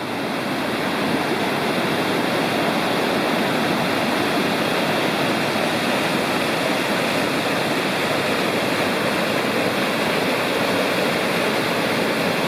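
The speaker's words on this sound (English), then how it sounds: "There's nothing but rapids on this section of Big Creek anyway, going all the way up." Steady, dense roar of rushing rapids on Big Creek in the Great Smoky Mountains, loud and close, continuous broadband churning water with no pauses and no voices.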